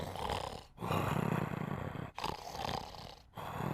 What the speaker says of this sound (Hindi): मैं बात कर रहा हूँ और तुम खर्राटे मार रहे हो?